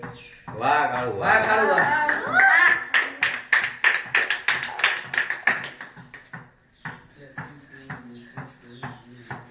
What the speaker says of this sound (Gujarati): તાળીઓ જ પાડે છે